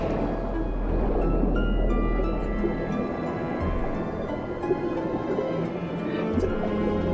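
A game character wades and splashes through water, with soft drips, squishy sloshing and gurgles over a low, steady ambient hum, moderately loud and continuous.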